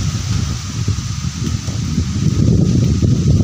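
Steady gusting typhoon wind on a rural farm roars and buffets the microphone with a low rumble, growing louder toward the end, with no voices.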